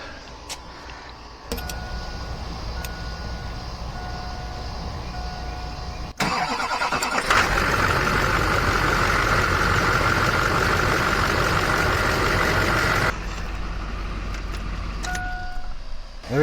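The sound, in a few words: Chevrolet Duramax 2500 engine starting and idling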